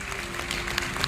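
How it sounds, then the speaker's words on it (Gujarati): A crowd claps in a dense, steady burst of applause at a Hanuman katha programme in Vidi village, Anjar taluka, a brief, fairly loud wash of hands with no voices on top. "તો એકવાર જોરદાર આ તાળીઓ છેલ્લી લો હવે તાકાતવાળી"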